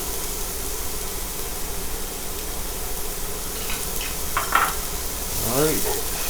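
Carrots and celery sauté in hot olive oil in a skillet, giving a steady close sizzle with a few clinks of a utensil stirring near the end.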